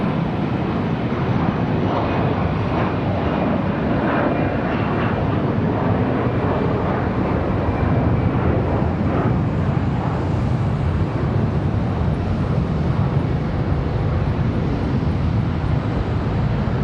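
A Piedmont regional airliner departing Charlotte Douglas airport for Asheville, its engines roaring loud and steady as it climbs away, with a rushing broadband drone throughout.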